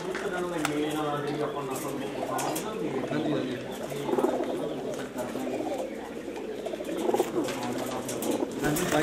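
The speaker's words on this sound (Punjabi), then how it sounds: "ਹੁਣ ਦਿਖਾਉਂਦੇ ਤੁਹਾਨੂੰ ਕਬੂਤਰ ਬਾਈ ਜੀ।" Racing pigeons of a shauk kabootar bazi breeder coo steadily throughout, a continuous layered murmur of several birds close by, with people talking over it.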